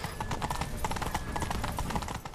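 A horse gallops in The Witcher 3 with a steady rapid clip-clop of hooves, moderately loud and continuous over low game ambience, with no talk heard.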